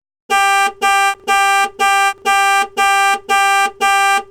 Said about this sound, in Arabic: يمكن إطلاق الشعار باستخدام كلاكس